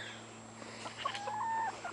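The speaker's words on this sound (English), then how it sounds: "Lots of chickens." Chickens being let out of their coop cluck softly at a distance, with a few short, faint calls rising over a steady low background hum.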